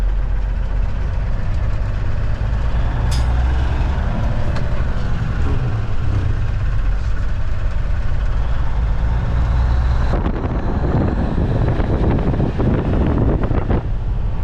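A day cab semi truck's engine revs while driving, a heavy low rumble with wind buffeting, swelling louder and rougher near the end as the throttle opens. No one talks.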